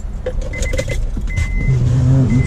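Power windows rise on a 2006–2014 Honda Ridgeline pickup, a soft electric motor whine building near the end over a close, steady car-interior rumble with small clicks.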